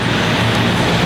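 Steady, loud roar of background car traffic, a continuous wash of road noise with no distinct passes.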